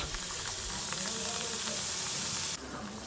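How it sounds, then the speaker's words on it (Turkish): Water hits a hot pan of browned flour roux for kuymak and sizzles, a loud steady hiss of steam and frying that drops off sharply near the end. "bir su bardağı suyumuzu ilave ediyoruz"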